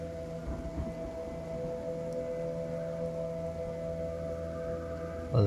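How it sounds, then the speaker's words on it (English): Rain falling in the video game Kenshi: a steady, even wash of hiss that holds at constant loudness from start to finish, with a few faint sustained tones beneath it. "It's raining. We don't see a lot of rain."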